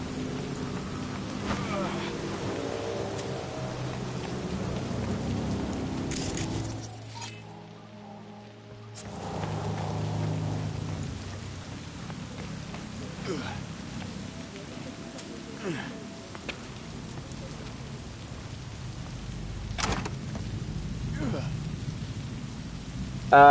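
Heavy rain pours steadily over a wide background hiss, with a brief lull partway through and a faint voice underneath at times.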